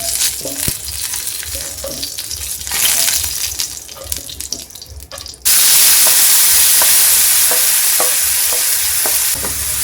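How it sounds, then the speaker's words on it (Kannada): Chopped tomato sizzles and fries in a pan with intermittent stirring clinks. The frying hiss grows noticeably louder and brighter partway through, with no talking. "ಅದೇ ಪ್ಯಾನ್ಗೆ ಇವಾಗ ನಾನು ಒಂದು ಸ್ವಲ್ಪ ಕಟ್ ಮಾಡ್ಕೊಂಡಿರೋ ಟೊಮಾಟೋನ ಹಾಕ್ಕೊಂಡು ಒಂದು ಸ್ವಲ್ಪ ಹುರ್ಕೊಳ್ತಾ ಇದ್ದೀನಿ"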